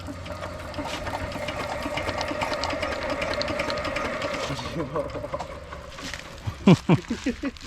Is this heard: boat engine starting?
yes